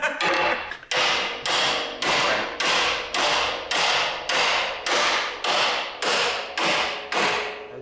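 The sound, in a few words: hammer beating a seized truck fifth wheel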